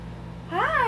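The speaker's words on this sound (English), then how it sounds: "So that is my cat Batman." A pet cat gives a single short, rising-then-falling meow, fairly close, after a quiet hum in the room.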